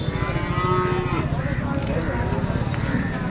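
Calves at a cattle market low and moo loudly and continuously nearby, with a person talking over the animals and general market bustle.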